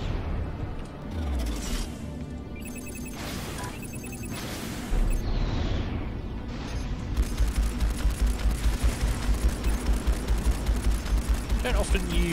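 Gun turret fire in the space combat game Strike Suit Zero, rapid repeated shots building into a dense, steady fusillade in the second half, loud and close, with game effects and a voice talking over it at times.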